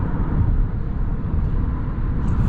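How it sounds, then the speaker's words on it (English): Inside a 2022 Hyundai Santa Cruz pickup on an evening drive, a steady low road rumble and muffled tire and wind noise fill the cabin continuously, with no talking. "you could definitely hear the cars passing by you"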